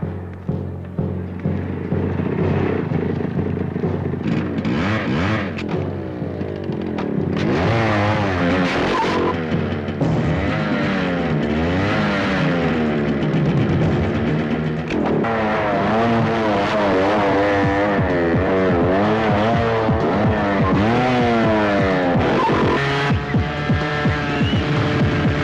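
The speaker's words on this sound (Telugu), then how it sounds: "మోటార్ బైక్ తీసుకురా" A motorbike engine revs in a movie scene, its pitch rising and falling in repeated loud sweeps over a steady throbbing hum, with skidding and almost no talk.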